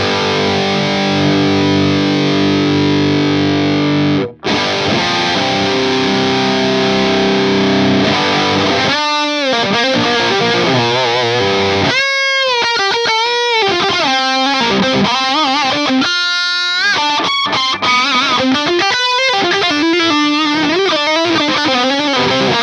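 Electric guitar played through the Axe-Fx III FAS Lead 2 amp model at stock settings, a loud distorted lead tone with sustained chords followed by fast picked single-note runs with brief stops, alone and up front.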